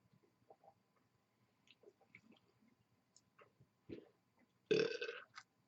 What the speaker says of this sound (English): I'm gonna try a burp factor here. See what burps are like.